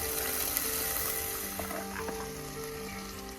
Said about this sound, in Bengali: এবার কিন্তু আমি সব সবজিগুলো দিয়ে একটু ভাজা ভাজা করে নিচ্ছি